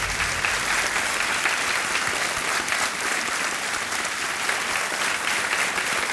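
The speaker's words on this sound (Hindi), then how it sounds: "तालियां बजती रहें इनके लिए" Studio audience at a televised quiz show breaks into sustained, dense applause, loud and even throughout with no pauses.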